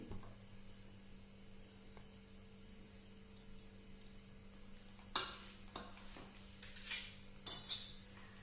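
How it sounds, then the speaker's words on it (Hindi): Almonds stirred with a spoon in a pan of ghee over a lowered flame, a few soft scrapes followed by several sharper metallic clinks near the end; quiet room with no talk. "सबसे पहले हम इसमें बादाम डालेंगे, क्योंकि थोड़ा सा ये ज्यादा हार्ड होता है।"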